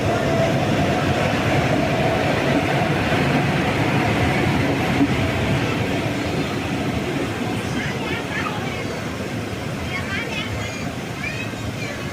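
An eight-coach MEMU electric commuter train from Chennai to Tirupati rumbles steadily along the track with continuous low roaring and faint rhythmic clatter, loud and close, as if heard from inside.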